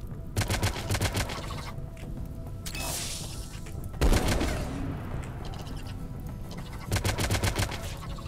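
Video game gunfire crackles in rapid automatic bursts and scattered single shots, layered over a constant din of battle with occasional heavier impacts, loud and close throughout.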